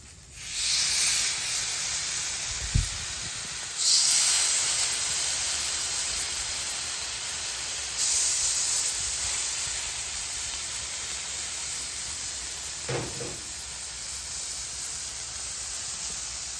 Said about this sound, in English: We're going to sear these in our hot zone